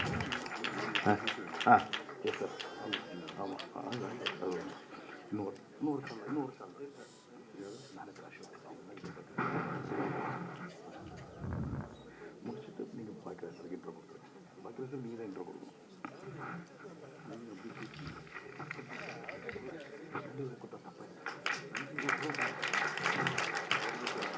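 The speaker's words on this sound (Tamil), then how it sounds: "நல்லா கைத்தட்டலாமே சார்" Audience applause at a Tamil film audio launch event in Puducherry rises in bursts of broadband clapping, heaviest near the end, while a voice keeps talking over it.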